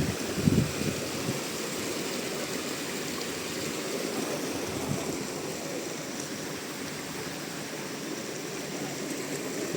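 A clear river flows over rocks and stones in a park below a waterfall, giving a steady, loud, close rushing wash with no voices.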